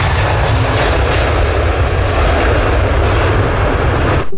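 A passenger airplane takes off with a loud, steady engine roar holding evenly for about four seconds before cutting off abruptly at the end, with no voices over it.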